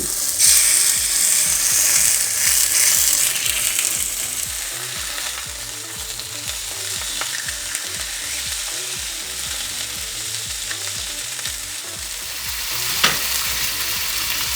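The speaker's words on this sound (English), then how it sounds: "So oil your pan, and we're gonna put the salmon in." Salmon frying in an oiled pan with honey garlic marinade, a loud steady sizzle and hiss that settles slightly after the first seconds, with a few faint clinks, close up and without voices.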